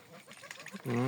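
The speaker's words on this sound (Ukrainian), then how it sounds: "І ще одна качечка кольору срібло" A silver-colored Muscovy duck quacks loudly near the end, a short nasal call following a stretch of quieter background noise and faint chatter.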